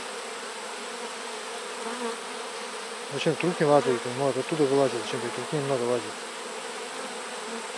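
Honey bees swarming around a hive as warm weather sets them flying for honey, a steady close buzz throughout, with someone speaking over it in the middle.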